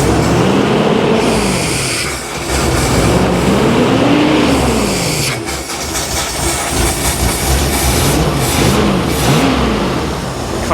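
A misfiring 1975 Bricklin SV-1 engine, running on three dead cylinders and reluctant to idle, revs up and down in rough, uneven surges, loud and close, with no talking.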